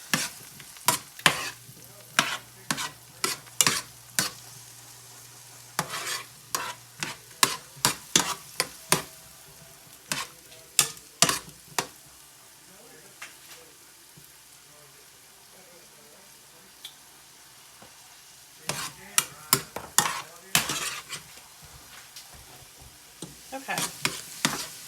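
Tomatoes cook in a pan, a soft low sizzle underneath repeated sharp clicks and scrapes of stirring, with quieter stretches between bursts and a brief spoken word.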